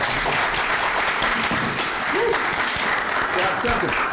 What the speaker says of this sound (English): will the panel join me in applauding the San Antonio collegiate community for your courtesy, your attention, and your intelligence?